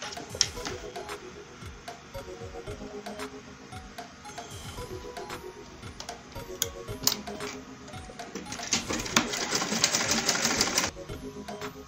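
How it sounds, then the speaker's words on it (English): A sewing machine stitches Ankara fabric for a tote bag, its needle ticking in quick regular bursts at moderate volume, with a brief louder whirring run near the end and no speech. "So I am done stitching."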